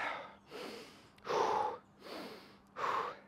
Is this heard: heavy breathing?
yes